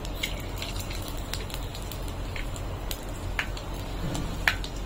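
Cumin, bay leaf, chopped ginger and fenugreek temper in a little hot oil in a wok, giving a steady soft crackle and sizzle with occasional sharper pops, close and even throughout.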